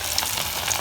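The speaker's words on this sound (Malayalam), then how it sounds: "ഇത് മിക്സ് ചെയ്തത് വേണം നമുക്ക് എണ്ണയ്ക്കകത്തിട്ട് വറുത്ത് എടുക്കാൻ" Egg pakoda batter frying in hot oil: a steady, close crackling sizzle with a bright hiss throughout and no talking.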